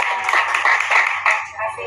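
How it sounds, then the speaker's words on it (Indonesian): A small group of teachers in a classroom session claps in scattered, uneven bursts for under two seconds, the clapping thinning toward the end, with speech mixed in underneath. "Tepuk tangannya dong, teman-teman."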